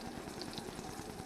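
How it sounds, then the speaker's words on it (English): Chicken fries in olive oil in a middle-sized skillet, giving a steady, faint, even sizzle with no other sounds over it. "Okay, chicken's frying away."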